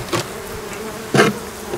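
Honey bees buzzing at an open hive in winter as a beekeeper reduces the nest: two short, close bursts of buzzing stand out over a faint, continuous hum from the hive.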